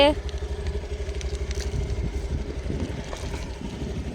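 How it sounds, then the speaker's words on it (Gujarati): A small Activa scooter engine idles with a rapid, steady putter close by after being started, while a voice talks over it. "આ એક્ટિવા કાઢ્યું છે ચાલુ કર્યું છે"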